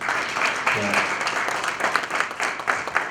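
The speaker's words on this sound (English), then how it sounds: "Give them a big hand of applause." Audience applause at a South Asian club gathering, moderately loud clapping that rises and falls unevenly, with talking audible through it.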